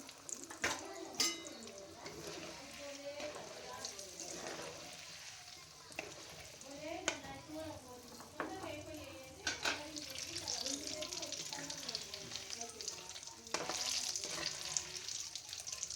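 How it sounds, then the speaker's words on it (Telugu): Chana dal and mustard seeds frying in hot oil for tomato chutney, with a continuous crackling sizzle and scattered sharp pops up close, while a voice talks over it. "శనగపప్పు వేగినాయండి. ఆవాలు కూడా వేసుకుందాం."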